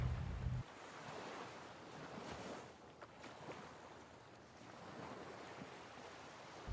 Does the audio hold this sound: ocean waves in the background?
yes